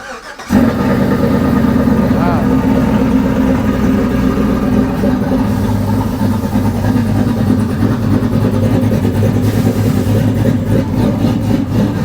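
A 1972 custom Chevy C10 truck's 5.3 V8 with a Texas Speed cam cranks up and settles into a loud, steady, lumpy idle close by, rumbling continuously throughout.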